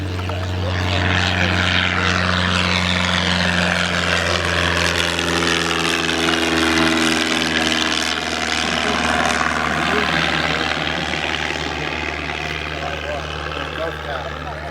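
A propeller plane flies close overhead at West Melton Airfield, its engine droning loud and steady with a shifting pitch as it passes. Talk is heard beneath the engine noise.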